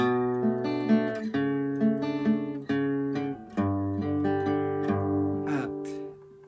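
A solo guitar plays the interlude from a song, a short melodic passage with ringing chords and single notes, moderately loud and close, with no voices.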